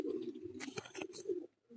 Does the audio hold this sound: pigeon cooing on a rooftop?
yes